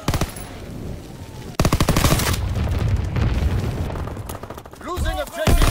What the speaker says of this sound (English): Black guns firing.